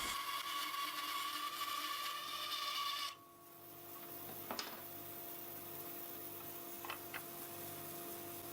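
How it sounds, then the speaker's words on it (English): A bandsaw cutting wooden coasters, a steady whining hum with a cutting rasp that stops abruptly about a third of the way in, leaving a quieter running hum with a few light knocks. "See how I cut the coasters down on the bandsaw?"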